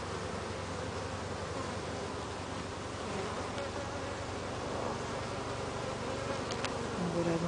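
A honey bee swarm buzzes steadily around a small hive, a continuous close droning hum of many wings that stays even and alone throughout.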